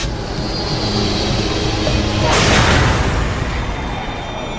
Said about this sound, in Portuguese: Nós ouvimos uma explosão forte o suficiente para sacudir o chão.